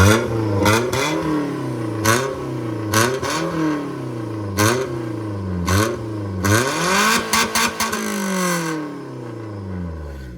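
A Maruti Suzuki Zen fitted with a budget Valvetronic exhaust revs repeatedly, each throttle blip rising and falling in pitch with sharp popping bursts between, loud and close, with no talk.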